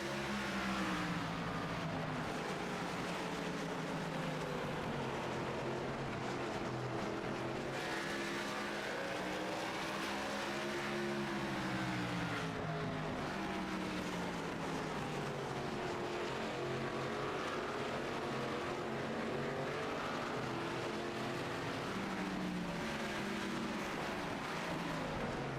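Stock cars racing in the ARCA SnowStorm 100 at Five Flags Speedway: a continuous loud roar of several engines, pitches sweeping up and down as cars pass and accelerate around the track, steady with no pauses.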